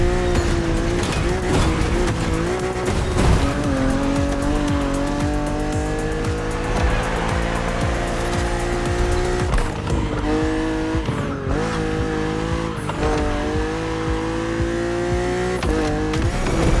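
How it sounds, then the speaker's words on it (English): BMW Z4 E89 coupe cabriolet in the racing game The Crew Motorfest, its engine note sustained and loud throughout with rising and falling revs and repeated tire squeal, no voices. "Your car is the Z4 E89"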